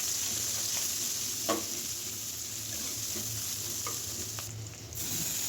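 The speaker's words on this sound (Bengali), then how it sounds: "এখন পেঁয়াজ আর কাঁচামরিচ দিয়ে দিলাম" Onion and green chili frying in oil in a kadai, a steady, fairly soft sizzle with a few light stirring clicks, no voices.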